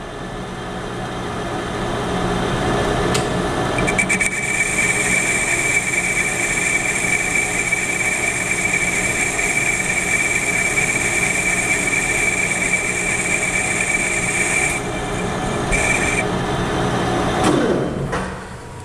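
A metal lathe turns steadily while a custom-ground toolbit cuts metal on a roughing pass, a continuous motor hum with a high whine from the cut, close and without talk, with brief clunks as the cut starts and stops.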